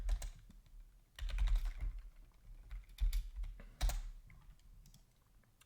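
Typing on a computer keyboard while entering a comment, with bursts of quick, close key clicks separated by brief pauses, fairly quiet and with no voices.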